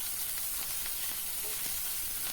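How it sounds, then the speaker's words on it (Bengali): Onion paste frying in a pan for a small crab curry, giving a steady, close hiss and sizzle with faint stirring throughout and no talk. "আস্তে আস্তে করে পেঁয়াজটাকে ভেজে নেব"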